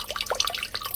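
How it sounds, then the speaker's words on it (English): Water trickles from the rear drain of an Aeolaqua atmospheric water generator, a steady, close splashing stream broken by irregular drips throughout. "drain another liter from the water drain in the back of the unit here"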